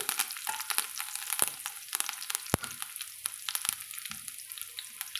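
Onions and curry leaves fry in hot oil with mustard seeds for a gourd and lentil curry, giving a close crackling sizzle with sharp pops and a few stirring knocks, and no speech.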